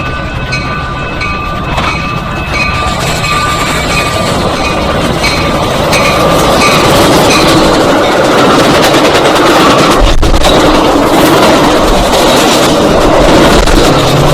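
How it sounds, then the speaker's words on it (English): Metra commuter train pushed by a Tier 3 locomotive passing Stone Avenue Station in LaGrange, Illinois: very loud, close, continuous roar of rail cars with clattering wheels and metallic clinks, building steadily, without speech. "The locomotive pushing the train must be a Tier -3 engine."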